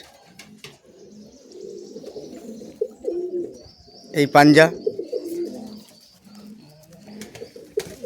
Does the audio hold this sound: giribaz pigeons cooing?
yes